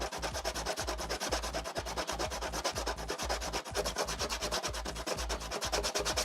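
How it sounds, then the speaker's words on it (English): A 3D-printed part for a radio-control airplane is sanded by hand in steady, rapid back-and-forth strokes, a continuous close rasping scrape with a regular rhythm, and no speech. "I'm just sanding it."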